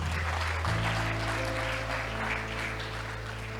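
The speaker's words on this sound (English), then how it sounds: "A round of applause for yourself, please." Audience applause fills a black-tie dinner hall, a steady dense wash of clapping under a low musical hum that swells after the first moment and holds throughout.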